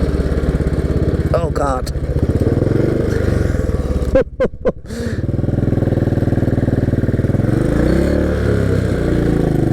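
A Royal Enfield motorcycle engine runs loud and close while riding on sand, holding a steady thumping drone that briefly cuts and sputters before revving back up, with a man exclaiming over it.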